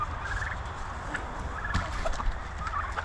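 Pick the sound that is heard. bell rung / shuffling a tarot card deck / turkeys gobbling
turkeys gobbling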